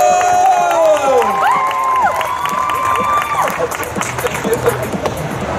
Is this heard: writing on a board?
no